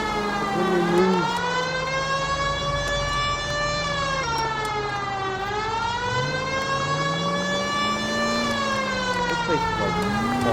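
A police car siren in the video game L.A. Noire, a loud, continuous wailing tone that rises and falls in slow sweeps for the whole stretch, with game engine noise underneath.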